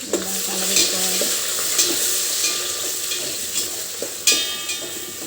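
Mutton curry is stirred in a pan with ginger paste. A spoon scrapes and clacks against the pan in repeated strokes over a constant sizzle, close and moderately loud, and no one speaks.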